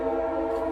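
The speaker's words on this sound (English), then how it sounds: "train whistle." A train whistle sounds as one steady, sustained harmonic tone, close and fairly loud, holding unbroken for under a second with no talk over it.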